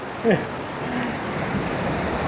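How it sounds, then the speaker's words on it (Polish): Steady broadband rush of surf at Tanah Lot, Bali, waves washing continuously with a brief higher voice-like cry near the start. "Uwaga, idzie fala!"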